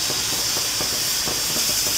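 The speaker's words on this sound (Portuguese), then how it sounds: "eu vou deixar ela sair a pressão pra eu poder ver se a carne já tá boa" Pressure cooker holding meat, lifted off the stove, venting steam in a continuous loud hiss with faint irregular rattling pulses beneath, no talk.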